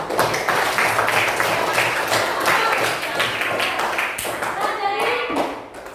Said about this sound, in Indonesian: Oke adik-adik, tepuk tangan dulu semua kelompok.